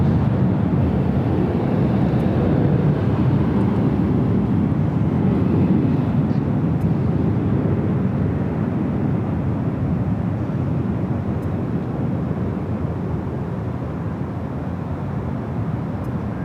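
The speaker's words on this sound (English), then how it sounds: "The A330 Neo coming in from Rome." An ITA Airways Airbus A330neo arriving from Rome at LAX, a broad, steady engine rumble that swells slightly and then slowly eases over many seconds, heard alone without talk.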